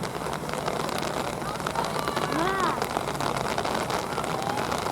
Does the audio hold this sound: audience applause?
no